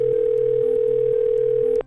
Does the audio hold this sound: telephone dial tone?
yes